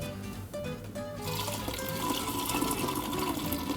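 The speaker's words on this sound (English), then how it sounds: "We've poured our Indian Tonic down the center of the cylinder so it infuses nicely with the botanicals" Indian tonic water pours into a gin cocktail dispenser cylinder filled with botanicals, first a few clinks and then a steady, close splashing stream of liquid.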